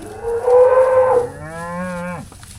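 A bull being taken to pasture gives one loud, close moo. The call starts as a strong bellow and then drops into a lower, drawn-out tone before trailing off.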